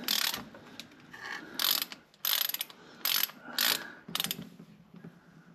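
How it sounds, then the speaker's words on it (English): A plastic filter wrench works loose the oil filter on a 2019 Yamaha Kodiak 700, giving about seven short, bright ratcheting bursts in an uneven rhythm, close and fairly quiet. "It's a plastic filter wrench that fits perfectly onto this. So we're gonna go ahead, loosen that bad boy with this."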